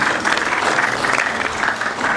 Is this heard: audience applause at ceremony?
yes